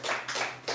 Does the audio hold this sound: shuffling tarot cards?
no